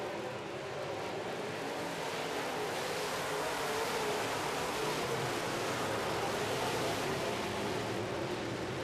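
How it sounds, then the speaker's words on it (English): A big Ford modified race car roars down the back straightaway of a dirt track at the July 4 modifieds feature, its engine a steady, loud broadband drone that holds throughout with no voices over it. "Lee McRae in the big Ford using all that horsepower right now as he heads down the back straightaway"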